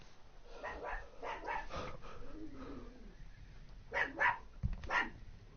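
A dog barks in short bursts, first a run of several barks and then a tight cluster near the end, heard faintly indoors over low room noise.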